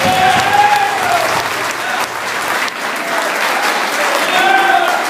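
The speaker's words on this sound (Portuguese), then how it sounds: "Aplausos a Deus." Loud, dense applause from a church congregation during a Portuguese-language worship service, sustained clapping with faint crowd voices and a few cheers or whoops mixed in.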